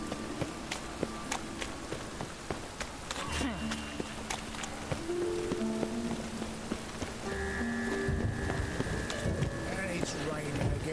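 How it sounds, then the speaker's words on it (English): Steady rain patters in The Witcher 3, a continuous close wash of drops with footsteps and game sounds layered on top. "And it's raining again."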